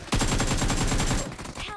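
Rapid automatic gunfire in a video game rattles off as a fast, loud, continuous burst of shots lasting about a second, then tapers off with a quieter trailing sound.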